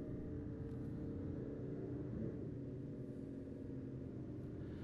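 Steady low engine rumble of a car being driven in the video game Final Fantasy XV, a continuous droning hum with no speech over it.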